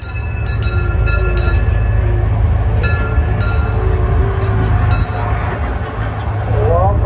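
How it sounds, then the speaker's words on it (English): A tourist railroad train at Goldfield Ghost Town, Apache Junction, Arizona, rumbles steadily with a low drone, metallic clinks and squeals from the wheels and cars, heard from on board. "Welcome aboard Superstition City Railroad."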